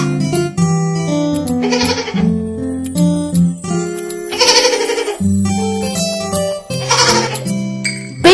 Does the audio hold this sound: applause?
no